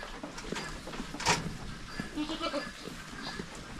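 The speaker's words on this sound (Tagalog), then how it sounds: "Isa nating kambing dyan na nanganak ng tatlo, si Dayan." A nanny goat that recently birthed triplets bleats a few times amid faint background noise, with a sharp louder burst in the middle and softer calls afterward.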